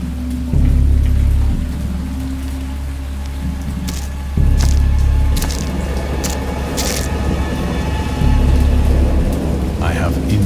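A game thunderstorm in Dagon: heavy rain pouring steadily while deep thunder rolls rumble in repeated waves, with sharp crackling strikes breaking through near the middle, loud and close.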